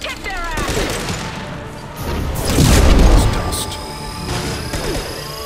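Rapid bursts of gunfire and heavy booms in a sci-fi shooter battle, dense and loud with crashing impacts swelling mid-clip, while a character's voice cuts in over the combat.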